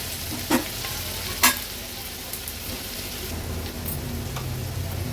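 Onions with crushed ginger-garlic paste sizzle in a pan over a low-to-medium flame, giving a steady, even frying hiss broken by a couple of sharp utensil clinks.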